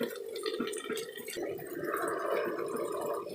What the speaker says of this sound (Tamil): இன்னும் 1 டம்ளர் தண்ணி ஊற்றிக்கலாம்.